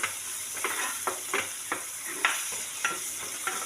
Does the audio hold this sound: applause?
no